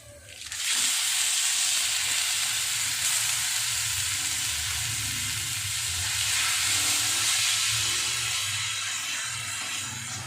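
Alamang shrimp paste added to a hot pan bursts into a loud, steady sizzle and hiss that holds for the rest of the clip, with no talking.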